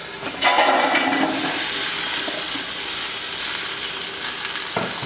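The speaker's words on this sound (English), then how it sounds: "It's ready to go, sizzling away." Loud, steady hissing and crackling of hot oil with garlic in a pan, flaring up sharply at the start and settling into a continuous sizzle, with no talking.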